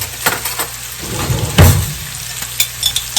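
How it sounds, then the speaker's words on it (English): Minced garlic dropped into a hot frying pan for a keto cauliflower casserole, crackling and sizzling up close with a few sharp taps of a utensil against the pan. "And now let's put a little garlic in there with it."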